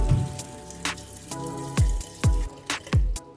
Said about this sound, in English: Add enough water to cook.